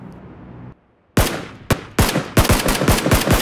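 Sharp gunshots ring out one after another in the mobile battle-royale game Game for Peace after a short silence, loud close cracks with a sniper rifle shot among them, quickening into a rapid volley toward the end, with no speech.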